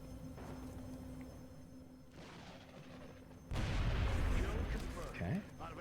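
A weapon fires in the XCOM Long War video game, a loud, sudden boom that breaks into a burst of crackling gunfire over a low game hum.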